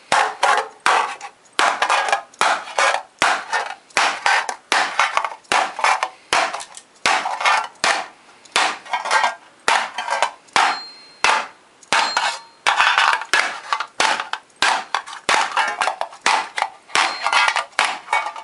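Rapid, loud hammer taps on thin sheet metal being shaped into a Viking shield, sharp metallic strikes coming in quick irregular bursts with short pauses between them, with no voices.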